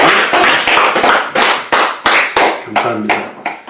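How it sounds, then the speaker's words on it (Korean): A church congregation claps together during a New Year's service, a dense, steady round of applause with several louder surges, close and full. "우리 하나님께 감사의 영광의 박수를 보내겠습니다."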